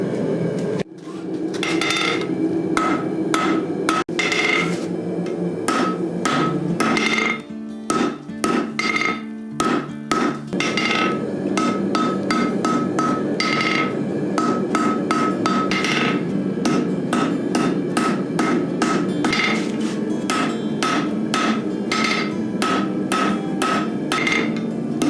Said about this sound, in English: here's the final San Mai and hopefully the final forge welding on this